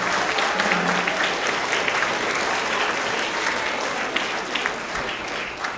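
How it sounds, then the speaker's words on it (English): Sustained applause from a school assembly audience at a 6th–8th grade winter award ceremony, a dense, steady wash of many hands clapping throughout with no talk. "Let's have another round of applause for all of our English language arts,"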